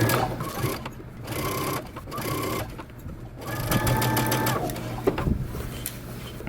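A sewing machine runs steadily stitching a shirt dress sleeve seam, a continuous mechanical whir with brief pauses and changes in speed, close and alone.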